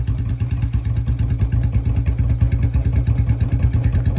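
Two Royal Enfield Bullet motorcycles, a 2019 and a 2024 model with the same silencer, idle close by in a loud, even thumping beat, the rapid pulses running steadily throughout.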